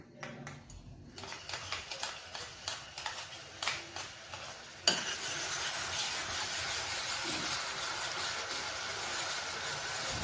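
Ginger garlic paste sizzling in about four spoons of hot oil in a pan, with soft scraping stirs at first, then a sudden steady hiss of frying that keeps going close by.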